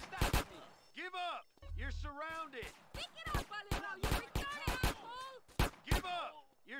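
Gunshots in GTA San Andreas: a run of sharp, loud cracks in quick succession, with a low thud between them, alongside shouted, strained voices from game characters.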